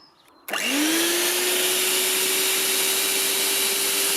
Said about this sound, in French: Un petit batteur de cuisine 350 watts